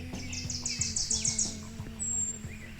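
Bright, rapid bird chirps trill in a forest over a steady low hum and a faint background drone, with a sharp high whistle near the end.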